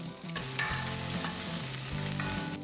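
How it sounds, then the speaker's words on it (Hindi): A ginger, garlic and green chili paste fries in hot oil with a loud, steady sizzle, later joined by spices such as hing, coriander powder and turmeric. Faint scraping from stirring runs through it. "अब ये मेरे पास अदरक, लहसुन और हरी मिर्च का पेस्ट है, हम वो पहले तेल में ऐड कर देते हैं।"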